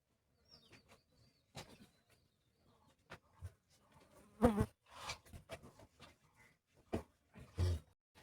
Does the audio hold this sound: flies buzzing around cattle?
yes